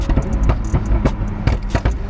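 A 1000-horsepower McLaren supercar engine sounds loud and close, with repeated throaty revving pulses and pops in quick rhythm, heard from inside or beside the car.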